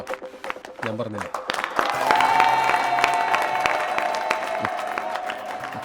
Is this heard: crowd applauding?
yes